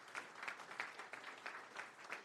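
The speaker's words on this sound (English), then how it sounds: "How about a big round of applause for the Young Marines" Applause at a city council meeting: a soft, distant spread of many hands clapping, steady with slight pulsing, no voices on top.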